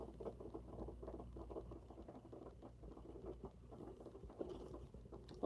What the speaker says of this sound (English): That's my shower.